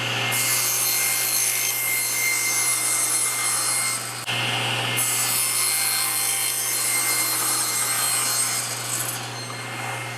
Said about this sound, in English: Now I'll raise the blade so that this cuts all the way through the plywood.